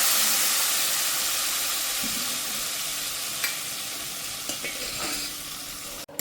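Sour mango pieces go into a hot pan of oil with browned garlic and chili powder, making a steady hissing sizzle broken by a few soft clinks and stirring scrapes, with no voices.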